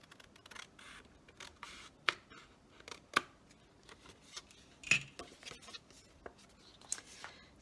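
Scissors snip through paper while a journal tab is being cut, giving a series of short, crisp, close cuts at irregular intervals in an otherwise quiet room.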